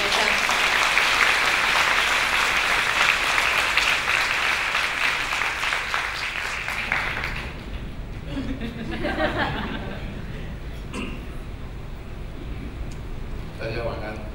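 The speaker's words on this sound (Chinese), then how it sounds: "请大家以热烈的掌声欢迎姚仁喜先生" A lecture-hall audience greets an architect taking the stage at a university talk with sustained, dense applause that swells for several seconds and then thins into scattered claps and murmuring.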